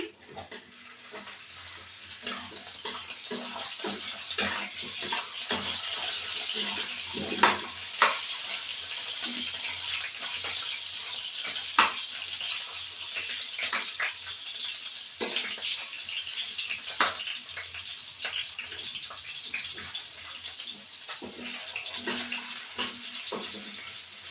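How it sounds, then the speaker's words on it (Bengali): Potatoes frying in hot oil in a home kitchen, giving a steady, soft sizzling hiss with scattered crackles and occasional clinks, continuous and fairly quiet with no talking. "এবার আমি আলুগুলো ভেজে তুলে ফেলছি।"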